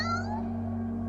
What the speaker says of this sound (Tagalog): Narito yung pusang nakita ko sa likod bahay.